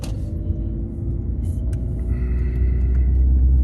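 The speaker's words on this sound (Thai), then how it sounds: "เหยียบคันเร่งปล่อย" Steady car engine rumble from the driver's seat as the accelerator is pressed and released, low drone swelling louder toward the end, close and continuous with no talk.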